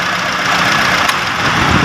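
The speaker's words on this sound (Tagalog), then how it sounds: "nakaandar yung makina" A Mitsubishi Lancer engine idles with the air conditioning and auxiliary condenser fan running, giving a loud, steady mechanical hum with a faint rhythmic knock and one brief click partway through, with no voices.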